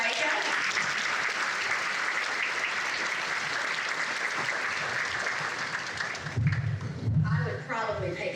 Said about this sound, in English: let's get a round of applause for Dr. Jicha.